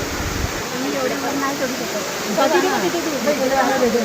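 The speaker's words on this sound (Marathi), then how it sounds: "डोंगरातून येणारे ते धबधबे त्या काळ्या दगडातून वाट काढत काढत येणारे ते पाणी अतिशय गार आणि शुद्ध होते" Waterfall pouring over black rocks in the mountains near Raigad, a steady dense roar of falling water that swells louder toward the end, with a person talking over it.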